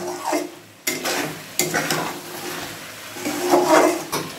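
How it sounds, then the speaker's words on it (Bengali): Chicken is stirred with coriander and cumin powder in a pan, giving soft sizzling under repeated scraping strokes and a couple of abrupt utensil knocks against the pot. "এবার এই মশলাগুলোকেও চিকেনের সাথে ভালো করে মিশিয়ে নেব।"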